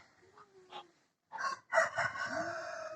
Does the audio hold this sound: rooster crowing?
yes